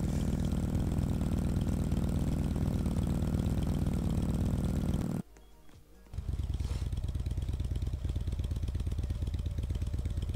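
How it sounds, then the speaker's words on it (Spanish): A motorcycle engine idles steadily in the Roblox game Pizza Factory Tycoon, a loud, continuous, evenly pulsing rumble that cuts out briefly, then restarts and idles again. "No sé por qué ocupo la moto para todo."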